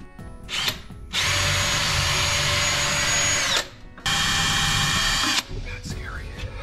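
A power drill drilling a pilot hole while hanging wall cabinets whirs in two sustained bursts of about two seconds each, close and loud, separated by a short pause, with quieter handling noise around them.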